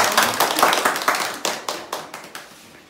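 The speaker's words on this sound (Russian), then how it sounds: "Бурные аплодисменты." A small group applauds at a New Year party, distinct individual claps ringing out close by, quick and overlapping at first, then thinning into slower, separate hand claps that fade away.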